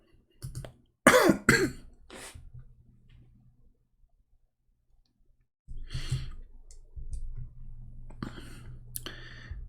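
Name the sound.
coughing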